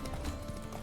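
Horse hooves clip-clop at a steady trot in The Witcher 3: Wild Hunt, a short, close run of thuds over a continuous game soundscape.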